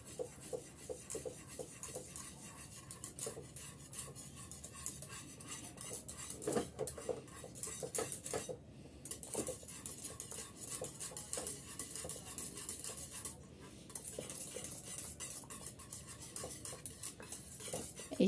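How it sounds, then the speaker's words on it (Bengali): Custard being stirred into boiled milk in a pot, a spoon scraping and clinking steadily against the metal with soft rhythmic strokes, close and continuous, with no talking. "এখন এখানে আমি কাস্টার্ডটা ঢেলে দিলাম আর অনবরত নেড়েচেড়ে আমি মিক্স করে নিচ্ছি।"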